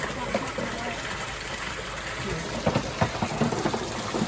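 Water pours over a welded metal lip onto the tray of a homemade koi filter, a continuous splashing rush with a few louder gushing bursts near the end.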